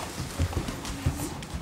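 Horse hooves clip-clop in a quick, steady rhythm as the horse is ridden, fairly close and moderately loud, with no voices over them.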